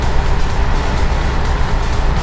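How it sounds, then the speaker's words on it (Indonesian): In the driving game Euro Truck Simulator 2, a car rushes past on a quiet Indonesian road. Loud, close engine and road roar blend with a steady rumble of passing traffic, with a few brief surges. "Waduh, itu mobil apa? Kencang sekali larinya."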